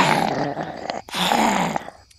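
A storyteller's voice imitates a growl: two drawn-out, rough, guttural growling bursts split by a short pause, close and loud.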